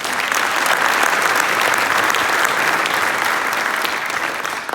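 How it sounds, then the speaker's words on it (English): Sustained audience applause fills a judge's investiture ceremony, a dense steady clapping from a large crowd lasting throughout and tapering slightly at the end. "So that on its own deserves a round of applause."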